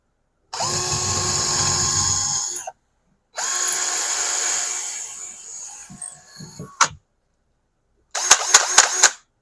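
A Hychika 20V cordless drill whirs in two sustained runs of a few seconds each, with a pause between, then a quick series of short bursts at the end.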